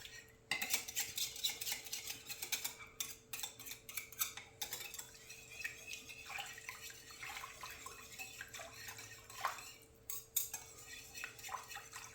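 Olive bread dough ingredients being mixed with oil in a bowl, with busy irregular clinks and scrapes of a utensil against the dish and a faint steady hum, quiet and close, with no talking.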